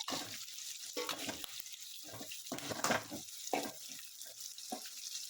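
Onions frying in a pan with curry leaves and two dried red chilies, a crackling sizzle that comes in uneven bursts as the pan is stirred, close and fairly loud with no voices.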